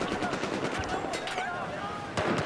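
Battlefield 4 weapon fire in dense, overlapping bursts of shots, with sharper reports standing out near the end over a busy game mix, while voices talk over it.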